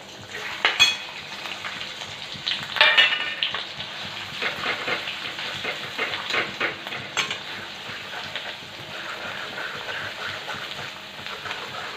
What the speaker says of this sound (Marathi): त्यामध्ये आता आपल्याला हे कांद्याचं वाटण आणि खोबरं टाकून छान परतून घ्यायचं आहे